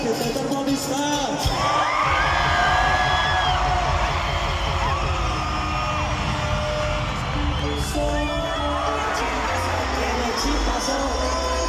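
Concert crowd in Bogotá at a 2024 reggaeton show, cheering, whooping and shouting continuously and loudly alongside music throughout.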